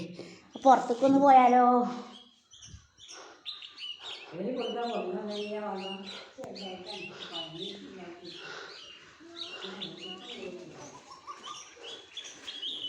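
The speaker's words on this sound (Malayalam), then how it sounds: "കിളികളുടെ ശബ്ദം ഇങ്ങനെ കേൾക്കാണ്ട് കൊഞ്ചല്." Birds chirp and doves coo outdoors, faint and intermittent, with people talking over them throughout.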